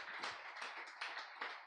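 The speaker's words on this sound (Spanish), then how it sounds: "Denle un gran aplauso al Rey de Reyes y Señor de Señores." A few people clap in a church service, giving faint, uneven bursts of applause in a loose rhythm rather than a full roar.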